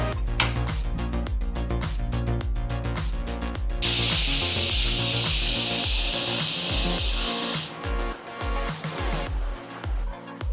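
A pressure cooker steaming unripe mangoes lets out one loud, sustained steam hiss lasting about four seconds, rising sharply over steady background music and then cutting off.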